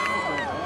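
A ballpark crowd roars steadily after a 10-inning 3-2 walk-off win for the Red Sox against the Rays, a dense wash of cheering and shouts with a broadcaster's voice over it.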